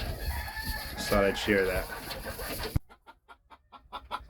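Black Roundhead game hens cluck in short repeated bursts after a voice talks over loud, busy background noise; the clucks come up close and fairly clear once the talking stops.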